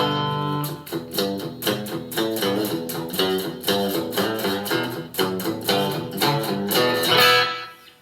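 A Variax JTV-69 modeling electric guitar plays a bright, twangy rockabilly line with quick picked notes and a steady driving rhythm, loud and close.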